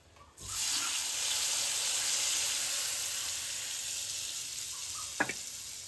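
Dissolved tamarind water pours into a hot pan while cooking temple-style tamarind rice, giving a steady loud sizzling hiss that starts abruptly and holds throughout, with a single small clink near the end.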